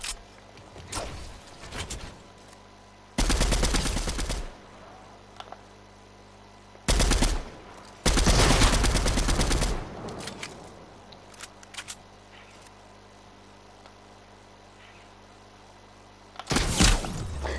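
Fortnite gunfire comes in several loud, dense bursts of rapid automatic shots, with long quieter gaps between the volleys and a final burst near the end.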